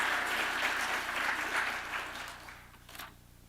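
Audience clapping at an annual presidential address, a dense, sustained round of applause that holds steady and then tapers off toward the end.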